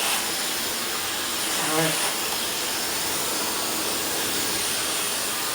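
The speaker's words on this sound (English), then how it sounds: "I'm going to put my dryer back to zone 1." A hand-held hair dryer blows a steady, broad whooshing airflow throughout, close and constant, while a person speaks briefly over it near the middle.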